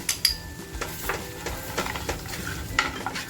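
Homemade masala with turmeric frying in oil for a black pomfret dish, a soft steady sizzle with scraping stirs and occasional light clinks of a pan, close and alone.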